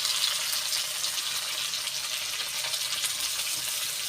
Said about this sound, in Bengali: এইবার দেব পেঁয়াজ কুচি আর দেব টমেটো কুচি